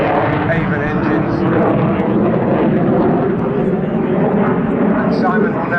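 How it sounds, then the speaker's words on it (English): Jet aircraft XP924, powered by two Avon engines, roars past loud and close at an air display in a continuous, thick rushing drone with no talking over it. "I won't try and talk over those two Avon engines."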